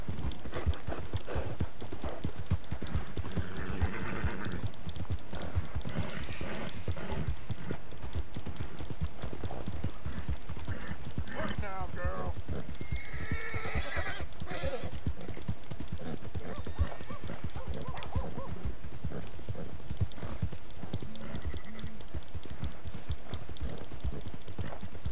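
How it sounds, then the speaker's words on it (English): A horse gallops in the video game Red Dead Redemption 2, with continuous rhythmic hoofbeats close and steady throughout, occasional snorts, and some talk over the top. "Acabou o fôlego do cavalo."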